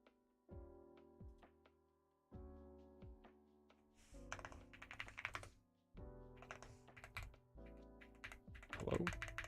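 Fingers type on a computer keyboard in close, clicky bursts of rapid keystrokes with short pauses between runs, no talking.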